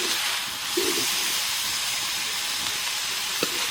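Gurmi saag vegetables roasting uncovered in a pan, a continuous soft hissing sizzle, steady and close, with a few faint clinks.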